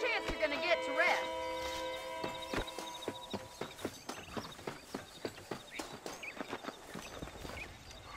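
Horse hooves clip-clop at a steady walking rhythm in the video game Red Dead Redemption, starting under a voice and then continuing alone as evenly spaced, moderately loud footfalls.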